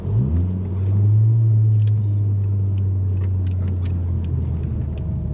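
Big-turbo 8V MK4 VW Jetta wagon heard from inside while driving, a loud, steady low exhaust drone filling the cabin under light rattles and clicks.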